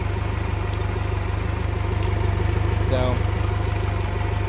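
A Mercury outboard motor idles steadily after a repair for gas in the oil, a close, even low rumble running throughout with a brief word spoken over it.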